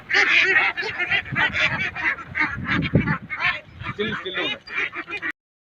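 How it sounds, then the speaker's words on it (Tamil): Loud, rapid honking and quacking from several ducks close by, a continuous noisy chorus for a few seconds before it stops abruptly. "2 வாத்தை பிடிச்சேன்"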